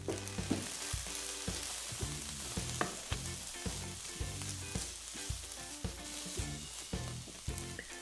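Vegetables cook in a stir fry pan for salt and pepper tofu with sesame seeds, giving a steady close sizzle under a repeating rhythmic tonal background pattern of pulses that runs the whole time.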